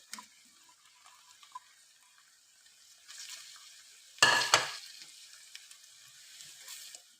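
Masala and onion for dahi bhindi fry quietly in a pan with light spoon taps, then a sudden loud hissing sizzle bursts up as ingredients are added, settling into a softer steady fry.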